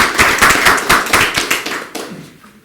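A short burst of applause from a small group at a Rotary club meeting, claps pattering quickly before fading out.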